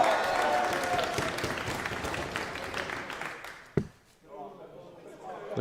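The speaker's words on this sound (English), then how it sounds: "The crowd are getting behind Ellis here." A darts crowd claps and cheers in a wide, steady wash that fades out and cuts off sharply near the end, followed by a quieter hall with some murmuring.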